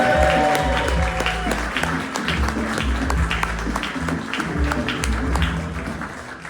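A theatre audience claps steadily and warmly as a comedian is introduced and walks on stage at a comedy show, the dense applause holding at an even level throughout with no speech over it.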